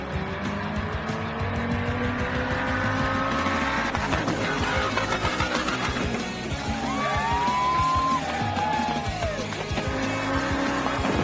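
A Petronas stunt car driving backwards, its engine roaring loudly and continuously, with tire squeal and skidding sweeping in partway through.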